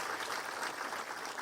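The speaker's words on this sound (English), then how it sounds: "sorry I stepped on your applause" Audience applause fills a conference keynote hall, a dense, even wash of many hands clapping at moderate volume with no speech.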